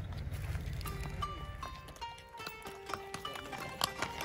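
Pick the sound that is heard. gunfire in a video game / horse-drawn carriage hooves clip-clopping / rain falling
horse-drawn carriage hooves clip-clopping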